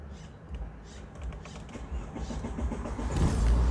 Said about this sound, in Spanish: Ahora sí, lo vamos a encender el carro.